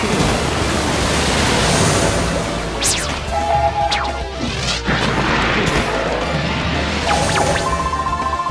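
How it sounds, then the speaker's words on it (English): A water spell attack crashes and surges loudly like breaking surf in the Blue Dragon video game battle, with a steady roaring wash, a few bright whooshing sweeps and tonal game chimes over it. "So now I can use the water spell. The water spell basically attacks an entire row."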